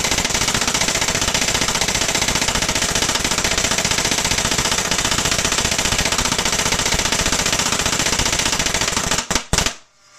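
An Etek 2 paintball marker fires in 3-round burst mode, a loud, dense, nonstop rattle of rapid shots that runs for about nine seconds before cutting off abruptly.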